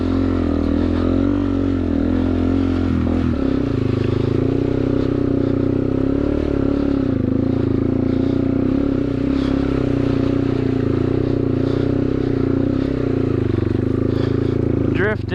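A 2009 Yamaha TW200 dirtbike riding through mud, its single-cylinder engine droning steadily and loud throughout with slight shifts in pitch as the throttle changes.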